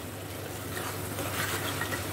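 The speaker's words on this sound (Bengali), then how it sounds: "এবার আঁচটাকে একটু বাড়িয়ে দিয়ে আমি আর একটু 1 মিনিটের জন্য নেড়ে" Vetki fish kalia curry is stirred in a pan over raised heat, a low, steady sizzle with faint scraping and occasional small crackles, quiet and without talk.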